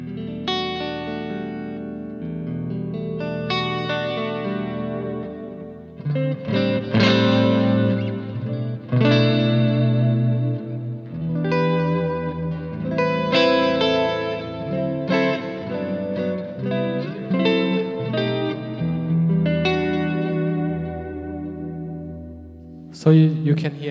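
Electric guitar through a Laney IRT Studio amp with the IRTX activated, heard live at a clinic: clean, effect-laden chords and single-note phrases with chorus and echo, full and close, with no talk over it for about twenty seconds.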